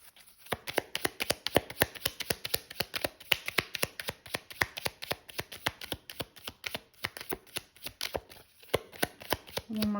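Tarot cards are shuffled close up with a rapid, even run of crisp riffling slaps that last the whole time, quiet and with no speech.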